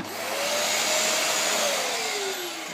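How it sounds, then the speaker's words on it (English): A household vacuum cleaner running after being switched on, giving a steady, loud whining roar with a faint drifting pitch that holds throughout. "it needs to be plugged in, and this is the on switch"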